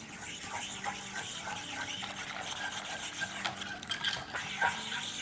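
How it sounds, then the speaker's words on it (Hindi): A spoon stirs vanilla into a milky firni mixture in a pot, giving soft repeated scraping and swishing strokes with faint clinks of metal against the pan, close and continuous with no talking. "मैं थोड़ा सा वनीला डाल देती हूँ। इसको मिला लेते हैं।"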